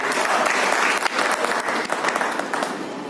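Audience at a Hindi poetry gathering bursts into steady, dense applause, loud and continuous for a few seconds with no talking over it.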